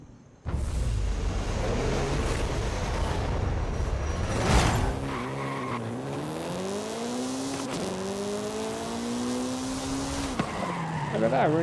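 A Honda CRX in the Forza Horizon 5 racing game roars close and loud through rising revs and gear changes, with a burst of tire skidding and squeal early on.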